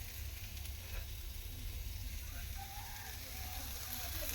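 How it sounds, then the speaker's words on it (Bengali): Steady, dense sizzling of potatoes frying in a pan, a continuous crackling hiss with a low hum underneath and no pauses. "এখানে আলু ভাজাটা বসিয়ে দিলাম"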